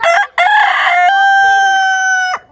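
A rooster crows once in a long, loud, drawn-out call, heard close and clear with no talk over it.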